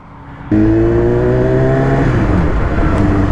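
A BMW S1000RR motorcycle riding on the Autobahn with no speed limit, its engine suddenly bursting into a loud, close, sustained high-revving roar that holds steady before the pitch shifts down partway through.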